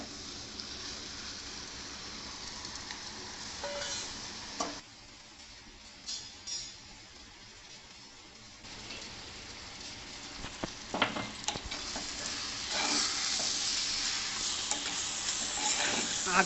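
Tella galijeru leaf curry simmers and sizzles in a pan, with scraping stirs that come and go, a brief quieter spell midway, then a louder, busier frying hiss toward the end.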